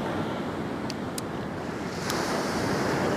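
Ocean surf rolls continuously at Lhoknga beach in Banda Aceh at sunset, a dense steady wash of waves mixed with wind buffeting the microphone, with no voices.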